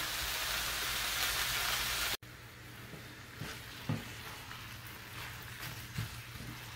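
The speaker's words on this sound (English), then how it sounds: "So I'm just getting this ground beef and these onions and garlic cooked together." About two pounds of ground beef frying in a pan with onions and garlic, giving a steady close sizzle with occasional stirring scrapes and no talk.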